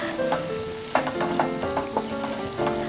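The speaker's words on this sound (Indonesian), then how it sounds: "Kemudian kita didihkan, kemudian kita tutup selama 5 menit sampai airnya menyusut." Tomato pasta sauce bubbling in a covered pan, a busy sizzling hiss with soft pops and occasional clinks throughout, fairly close and steady, with no talking.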